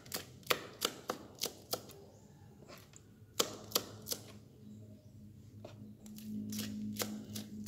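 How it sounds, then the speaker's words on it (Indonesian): A knife slices through ingredients for Indonesian sambal iris on a cutting board, giving sharp, quick taps in uneven clusters, close and distinct, with a faint background hum and no talking. "Kita iris semuanya ya guys."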